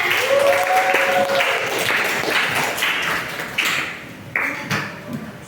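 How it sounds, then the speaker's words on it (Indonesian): Applause for everyone at the close of a religious education lesson, a fairly loud, steady patter of clapping with a brief tonal ping early on and a few louder thuds later. "Oke, puji Tuhan, tepuk tangan buat semuanya."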